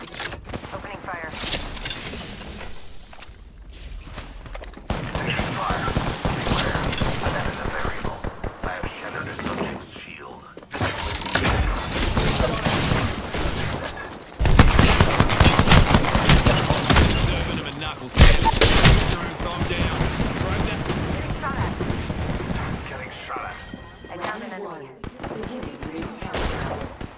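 Gunfire in the Apex Legends video game: repeated volleys of shots and heavy impacts come in loud stretches with brief lulls between them, and a voice talks over the action.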